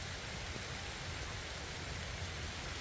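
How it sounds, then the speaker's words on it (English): Heavy rain coming down steadily outdoors on a farm during a flood, a dense unbroken hiss from start to finish with no voices. "As you can see, it's raining pretty hard right now."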